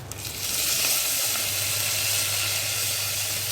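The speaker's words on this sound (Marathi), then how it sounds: "ह्या मी मिरच्या दोन घेतलेल्या आहेत ह्या दोन मिरच्या टाकणार" Green chillies and asafoetida sizzle steadily in hot oil, a close, continuous crackling hiss with no talk over it.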